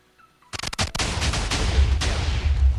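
Cannon fire in a video game, a rapid burst of sharp blasts followed by sustained booming, rumbling gunfire that stays loud and close throughout.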